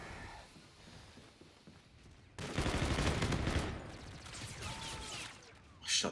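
Gunfire from a weapon in Call of Duty: Infinite Warfare, a sudden rapid burst of shots that cuts in partway through after a quieter stretch, followed by a sharp final blast near the end.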